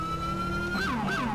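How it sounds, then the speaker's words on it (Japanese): A New York-style police car siren in GTA 5 blares loud and close, a steady high wail that shifts into two quick rising-and-falling yelp sweeps. "こっちのサイレンも使ってみるか。"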